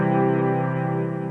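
An electric keyboard preset holds a single steady, rich synthesized tone with a chorus-like shimmer, sounding alone and evenly for just over a second.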